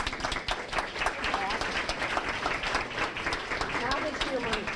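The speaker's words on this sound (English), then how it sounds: "Okay, I applaud you." Applause from a church congregation: lively, busy clapping from many hands that stays steady throughout, mixed with crowd chatter and voices.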